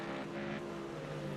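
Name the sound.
race car scraping the ground at Spa in racing game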